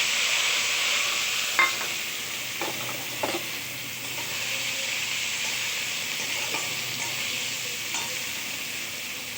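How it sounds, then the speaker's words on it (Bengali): Chopped onions fry in a pan with oil, green chilli, cumin, bay leaf and whole garam masala, giving a steady close sizzle with a few sharp stirring clicks from a spoon, no talking. "এবার পেঁয়াজটা ভালো করে ভাজা হোক"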